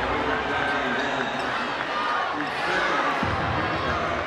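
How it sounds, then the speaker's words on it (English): An arena crowd at a high school basketball championship game murmurs and lets out oohs and aahs while watching a replay, a sustained wash of many voices with a brief thump near the end. "You hear the ahs and the oohs from the crowd watching the replay"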